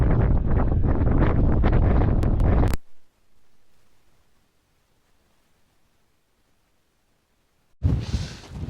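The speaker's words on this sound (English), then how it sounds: "The wind is blowing between 20 and 30 miles an hour." Strong wind buffets a microphone near a Scottish mountain summit in thick cloud, a loud roaring gust that cuts out abruptly to near silence, then another loud blast returns at the end.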